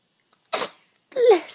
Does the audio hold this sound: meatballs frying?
no